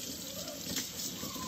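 Steady running water from a tap or sprayer while an Aussiedoodle puppy is bathed, a continuous close splashing hiss with no talking.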